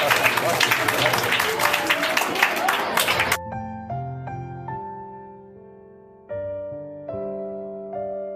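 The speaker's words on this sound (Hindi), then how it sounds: "एक बार जोरदार ताली के साथ स्वागत" Students at a school quiz event greet a winning student with loud applause, a dense burst of many hands clapping that stops abruptly and gives way to sustained musical tones.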